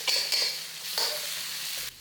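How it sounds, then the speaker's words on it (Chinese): Spices stir-fried with bean paste and oyster sauce in a wok over low heat give a steady close sizzle, broken by a few scraping stirs of a spatula against the pan. "我们加半茶匙的豆酱和1茶匙的蚝油， 然后继续炒出酱香味。"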